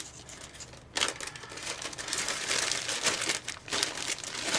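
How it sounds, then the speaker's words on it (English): Paper and plastic craft materials rustle and crinkle close by in continuous loud bursts while shabby chic canvas supplies are handled, with no talking. "sorry about the rustling"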